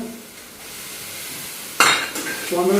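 A spoon stirs tomatoes into fried onions in a hot pan for paneer angara, starting as a soft sizzle and then a sudden louder scrape and clatter of utensil against pan near the end.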